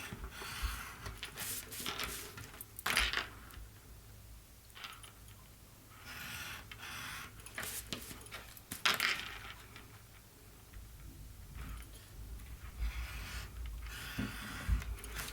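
Scissors trimming excess card stock around the edges of a handmade embossed, stamped and die-cut greeting card, giving repeated close crisp snips and rustling paper scrapes in irregular bursts with no talk.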